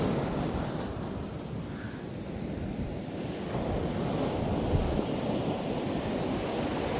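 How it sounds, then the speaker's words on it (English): Ocean surf washes steadily onto a beach at Timaru, New Zealand, a continuous close roar of breaking waves with wind buffeting the microphone throughout. "you get a big wave"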